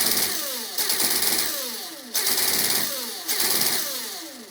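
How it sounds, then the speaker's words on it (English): An RC drift car's electric motor, a 10.5T brushless unit on a Furitek SlideVolt ESC, revs loudly and repeatedly slams into a simulated rev limiter, with the pitch climbing, cutting out and restarting about four times in a stuttering rhythm. "You can have a rev limiter to simulate a real vehicle. So if we give it gas, it should cut out."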